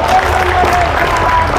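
A church congregation claps together during a worship service, a short burst of loud, dense applause with crowd murmur mixed in.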